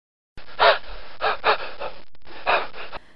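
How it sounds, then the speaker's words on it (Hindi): Quick, breathy panting from a rabbit resting at the edge of a swamp, several short gasping pulses in two clusters, close and clear, ending abruptly with no talk. "दलदल के किनारे बैठकर हांफने लगा"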